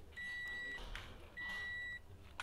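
A Toyota Vios sounds two short electronic beeps from its car alarm and central locking, each clear and evenly spaced, with no talking over them.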